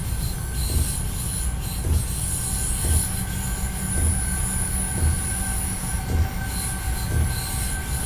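A train in Train Simulator 2020, on the Mannheim–Biblis run, rolls into a station: a steady rumble with a sustained high wheel squeal and evenly spaced low thumps about once a second, with no talking.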